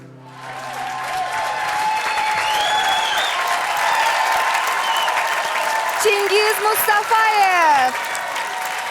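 A large television studio audience applauds after a song in a superfinal, loud sustained clapping and crowd noise running throughout while a presenter speaks over it and a musical sting plays near the end.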